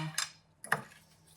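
A spoon stirring crisp topping into apples in a baking dish, giving two distinct clinks of utensil against dish about half a second apart, fairly quiet and close, with faint scraping trailing after each.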